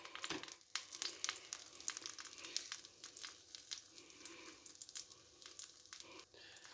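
Egg with cheese, onions and tomatoes frying in a pan, a soft, steady sizzle with occasional crackles and light stirring or scraping, fairly faint and without speech.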